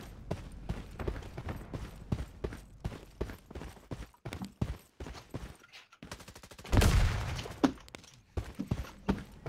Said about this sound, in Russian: Это он с этого стреляет, с MPX, кажется.